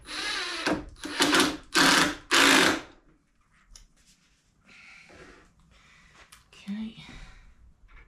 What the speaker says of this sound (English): Just screw that in there.